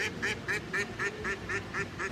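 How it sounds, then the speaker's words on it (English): Ducks quacking in a quick, even series of about nine calls, close and fairly loud over a low outdoor background at an amusement park construction site. "It's the ducks. The ducks say hi."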